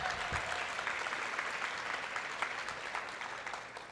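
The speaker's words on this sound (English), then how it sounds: "round of applause, come on" Sustained audience applause at the Millennium Stage, a dense, even crackle of many hands clapping that holds steady for several seconds and eases slightly toward the end.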